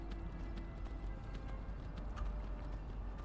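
Horse hooves clip-clop at a steady, rhythmic trot in Skyrim (Anniversary Edition) while riding through a chilly area, with the hoofbeats sitting over a constant low game ambience.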